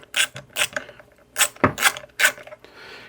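Small Torx T8 screws being backed out of a camera mount make a run of sharp clicks and scraping metallic rattles in short separate bursts, heard up close with no voices.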